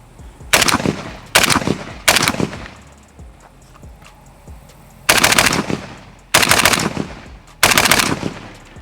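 An AK rifle chambered in 7.62 and fitted with an Unrivaled muzzle brake fires six loud, sharp shots outdoors, three in quick succession and then three more after a pause, each followed by a brief echo.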